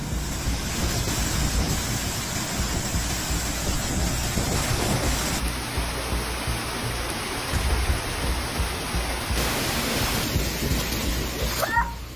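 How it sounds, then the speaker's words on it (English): Heavy rain pours during a storm in Brussels, a dense continuous roar mixed with gusty wind buffeting the microphone, loud and steady throughout with a faint high tone partway through. "bringing heavy rain, hail, and strong gusts of wind."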